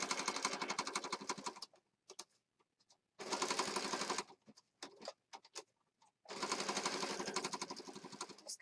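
A sewing machine stitches around a junk journal embellishment in three quick bursts of rapid, rhythmic needle chatter, separated by short pauses with faint handling clicks.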